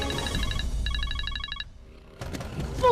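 A telephone rings in two short electronic bursts inside a home, set against a low background hum, followed by faint rustling.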